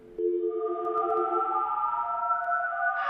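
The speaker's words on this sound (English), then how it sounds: "The background music for this stage is literally just a slowed down modem dial-up sound." Slowed-down modem dial-up tones serve as eerie stage music in the Sonic.EXE game: a low pitched start giving way to sustained, droning warbling tones that hold steady and rise slightly near the end, heard alone without talk.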